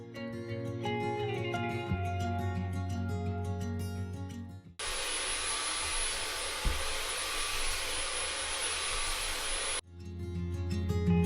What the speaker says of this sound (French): Je passe régulièrement l'aspirateur sur mon matelas